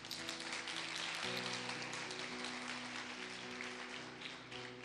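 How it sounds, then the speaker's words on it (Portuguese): A church congregation claps steadily for several seconds, a dense, sustained round of applause with some cheering tones mixed in. "eu quero um segundo aplauso"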